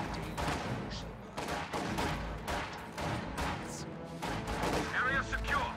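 Sustained video game battle gunfire, dense bursts and volleys of rifle and machine-gun shots mixed with explosions, loud and continuous across the whole stretch, with game voice callouts layered underneath.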